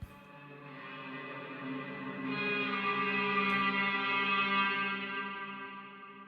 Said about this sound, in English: In order to build a riser, I took a certain portion of the sample, I added some reverb, cut some mids, and added an EQ